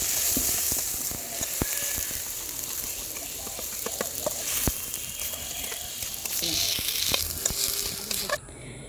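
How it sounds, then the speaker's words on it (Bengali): Plenty of garlic sizzles loudly in hot oil for a tempering, a constant crackling hiss with occasional sharp pops and spatters, close up and without talk. "এদিকে তেল গরম করে এখন বেশি করে রসুন দিয়ে বাগার দিয়েছে"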